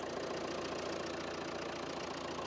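A Jeep Renegade with a Multijet 2 diesel engine runs steadily at idle, a constant mid-low engine drone with no talk over it.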